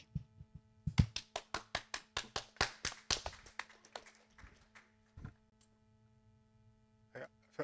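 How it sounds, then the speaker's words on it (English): Enthusiastic applause at a youth debate, a quick run of fast, sharp claps from what sounds like one or a few people, fading out after a few seconds, followed by quiet scattered taps. "That was like a real hectic applause then."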